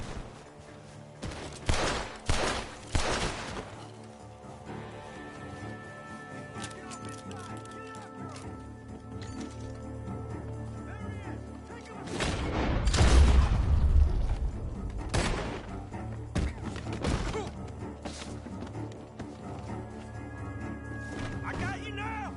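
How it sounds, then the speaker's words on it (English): Several gunshots ring out in a barn, sharp bursts clustered near the start and again in the middle, mixed with background music and effects while voices talk. "The gunshots are coming from that barn!"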